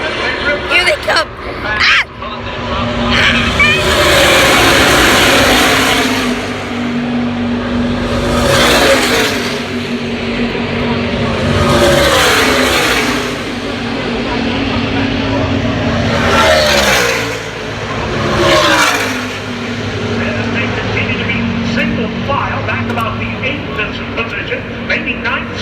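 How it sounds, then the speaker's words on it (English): Racing trucks on a racetrack, running single file nose to tail, roar past in repeated loud waves of engine noise, each pass swelling and fading as trucks go by close to the listener. "5 trucks out front, nose to tail, single file in that bottom groove, led by Sauter and Grafton."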